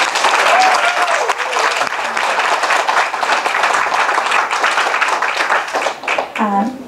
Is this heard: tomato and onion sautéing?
no